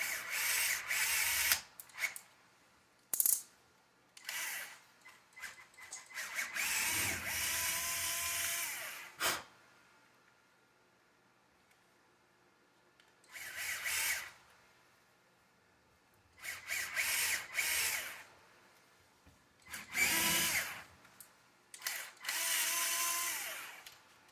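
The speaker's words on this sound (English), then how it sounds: "So let's go ahead and drill those out." A power drill bores out holes for a brake linkage in several whirring bursts of a few seconds each, close and fairly loud, separated by quiet gaps.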